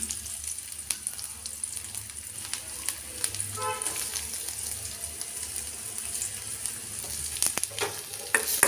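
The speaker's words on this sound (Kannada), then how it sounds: "ಹಸಿಮೆಣಸಿನ್ಕಾಯಿ ಚೆನ್ನಾಗಿ ಫ್ರೈ ಮಾಡಿ ಮೇಲೆ ಈರುಳ್ಳಿ" Green chillies and onion fry in a pan with a steady, close sizzle and crackle, broken by brief scraping and stirring knocks as they are turned.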